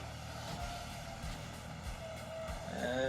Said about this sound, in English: Helicopter's coming this way.